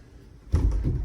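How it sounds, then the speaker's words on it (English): A bedroom door in a new-build house is pushed shut, a sudden dull thud followed by a low rattling knock as it fails to seat at the bottom, close by after a quiet start. "Door does not shut at the bottom."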